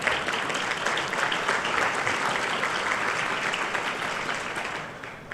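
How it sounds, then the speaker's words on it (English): Steady audience applause fills a panel session at a diplomatic peace conference, dense and sustained throughout before easing slightly at the end. "there's one applause"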